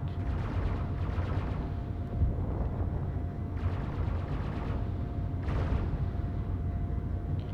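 Weapon fire in the game Space Engineers: repeated bursts of rapid crackling shots in clusters, fairly faint over a steady low rumble, with short gaps between volleys.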